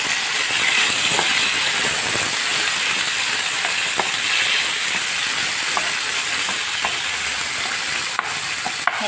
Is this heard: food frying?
yes